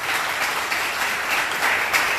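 A church congregation in a Hindi-speaking gathering applauds first-time visitors. The applause is steady and sustained, with many hands clapping at moderate volume throughout and no voices on top.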